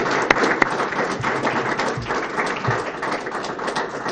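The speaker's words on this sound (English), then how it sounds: "Final round of applause," Sustained audience applause at a student government candidate forum, a steady dense wash of clapping from a crowd, loud and continuous throughout with no talk over it.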